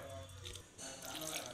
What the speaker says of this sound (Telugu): కొంచెం వాటర్ వేసుకుంటాం.